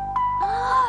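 A household doorbell sounds in a TV comedy scene, a bright sustained electronic tone that steps to a second pitch, short and clear with no voices over it.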